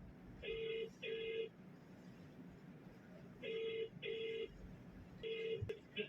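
Paired electronic telephone tones repeat in short bursts with gaps between, like a line ringing, over a faint background hum.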